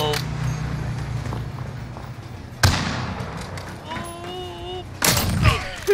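Gunfire in a Call of Duty match sounds as a few sharp, loud bursts, one near the middle and a cluster toward the end, over a low rumbling game background with players talking and shouting throughout.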